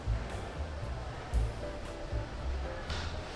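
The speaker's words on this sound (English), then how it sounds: "With a huge waterfall." A huge indoor waterfall at the Island Waterpark at Showboat in Atlantic City pours with a broad, steady rushing hiss, with low thumps of falling water and surges in the roar throughout.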